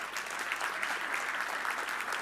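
A brief round of clapping from an audience at a tech user-group closing session, dense and steady for a couple of seconds.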